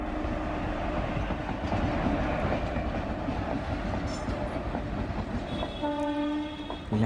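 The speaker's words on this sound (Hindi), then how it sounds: "ये अपनी असल ड्यूटी दे रहा है ना फ्रीट के आगे, गुड्स के आगे गुड्स का लोकोमोटिव।" An Indian Railways WAG-5 electric freight locomotive hauling a goods train rumbles along with a steady rolling roar and clatter, and a sustained horn sounds near the end.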